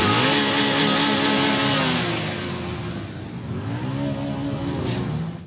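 Several engines revving loudly and steadily at a funeral procession in Vilniansk, close and continuous with rising and falling pitch sweeps, no talk over them.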